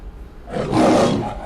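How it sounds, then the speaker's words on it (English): A lion roars for the MGM logo: a single loud, rough roar that swells in from quiet after about half a second and holds at full strength through the end, with no talk. "they re-recorded a lion roaring"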